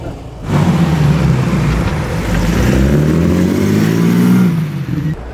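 A 1936 Alvis Silver Eagle with a supercharged 4.3-litre straight-six starts up and revs loudly and close, holding a rising, steady roar for several seconds before easing off, with no talking.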